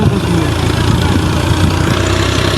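A tractor engine idles close by, a loud, steady low rumble with a continuous throb and no break.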